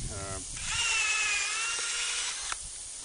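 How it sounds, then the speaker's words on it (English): A power drill whines steadily for about two seconds, close and loud, with a rising motor pitch before it cuts off, drilling into a PasturePro fence post. "We'll go ahead and drill this one here too."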